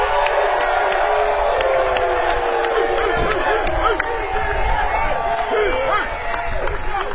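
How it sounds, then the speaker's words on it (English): A live podcast audience cheers and whoops loudly for a South Beach mayor, a dense, sustained crowd roar with scattered shouts and some clapping mixed throughout. "I need you guys to give an extremely loud round of applause to cheer up your mayor of South Beach"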